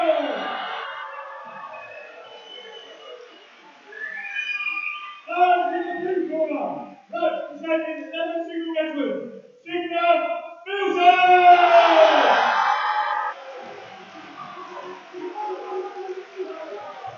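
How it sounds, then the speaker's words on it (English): A crowd at an army boxing match between Signals and REME units roars and whoops in swelling waves, with shouted calls rising and falling over a fairly loud indoor hall. "And listen to that crowd for the signals and REME."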